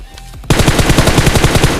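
A SCAR-L assault rifle firing in PUBG Mobile: after a brief quiet lead-in, a loud, rapid automatic burst of evenly spaced shots rattles on to the end.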